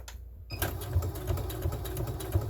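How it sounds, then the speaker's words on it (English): Sewing machine running steadily as it stitches bias tape between fabric bunting flags, a brief quiet pause and then continuous close mechanical whirring with rapid needle clatter. "I think I might go ahead and sew in between the flags too, just to keep my bias tape nice and secure."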